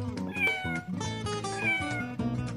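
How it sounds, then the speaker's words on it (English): A kitten meows several times in quick succession, close and clear, with cheerful background music playing throughout. "What does the little kitty say?"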